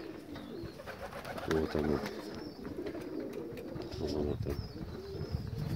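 Pigeon cooing in short repeated bursts, fairly close, set against a steady outdoor background while a person talks intermittently.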